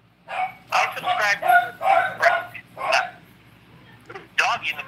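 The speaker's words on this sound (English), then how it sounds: "I think they're done barking." Dog barking in the background of a live stream discussion, its short, fairly faint barks mixed in under continuous close conversation between people talking.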